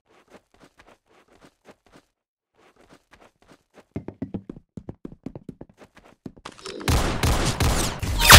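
Gunfire in the Roblox Arsenal video game comes as many sharp, rapid shots, faint and sparse at first, then louder and denser, ending in a loud continuous burst of fire.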